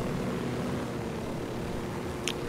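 A helicopter in Ghost Recon Wildlands drones with a steady, loud rotor and engine rumble throughout, unbroken and close.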